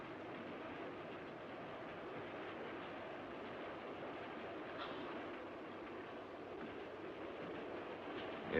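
A passenger train from around 1940 runs steadily along its rails at night, a continuous low rumble with faint rhythmic clatter of the cars, heard alone at moderate distance with no voices.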